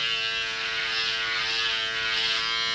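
An electric shaver trims a mustache and beard with a steady, close buzzing hum that holds constant throughout, no voices present.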